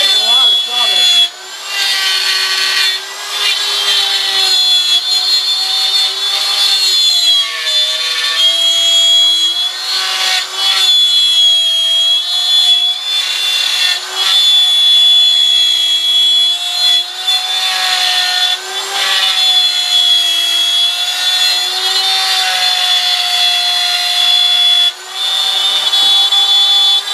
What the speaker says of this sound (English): I keep the edge of the router down and I tip it up so that the cutter comes up out